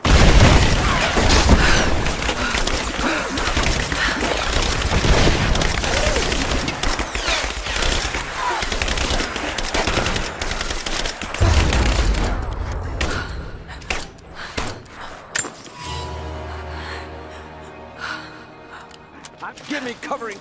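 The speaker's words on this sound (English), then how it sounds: "Give me covering fire!" Battle gunfire from the video game Rise of the Tomb Raider: dense, continuous bursts and booms filling the first half, then thinning to scattered shots and thuds over quieter game sound, with a voice shouting over it.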